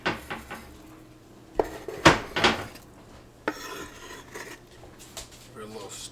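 Duck meat for white bean chili being transferred into a pot: a handful of clanks and scrapes of a utensil against metal cookware, with a couple of louder knocks in the middle and quieter rustling and scraping afterward.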